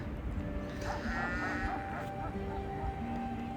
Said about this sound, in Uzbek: Qo'ylarimiz ertalab mana o'tlab damini olib turibdi.